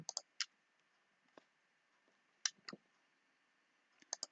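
Sharp, quiet computer mouse clicks in small clusters, single and double, separated by stretches of near silence, while working in Microsoft Teams.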